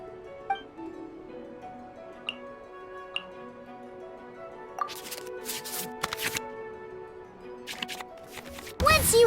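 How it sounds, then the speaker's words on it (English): Digital cards in the Genshin Impact card game shuffling back into the draw pile, a run of soft clicks and ticks over quiet game music, ending in a brief louder burst. "we can select any number of cards in our hand to shuffle back into the draw pile, and then draw the same number of new cards"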